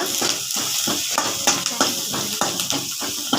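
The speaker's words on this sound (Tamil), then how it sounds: "உள்ளியை நல்லா ஃப்ரை பண்ணிக்கோங்க" Garlic fries in hot oil for a Tamil clathi fish kulambu while a spoon stirs it around the pan. A continuous sizzle runs under regular scraping and clinking strokes, close and fairly loud.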